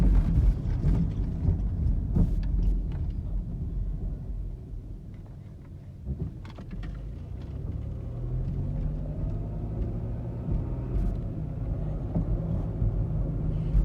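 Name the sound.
2006 Chrysler Pacifica driving on road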